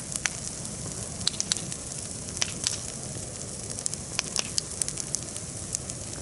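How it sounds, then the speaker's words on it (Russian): A campfire burning steadily, with soft hiss and scattered sharp pops and crackles at irregular intervals, fairly quiet and close, no voices. "Люблю вот так сидеть у костра"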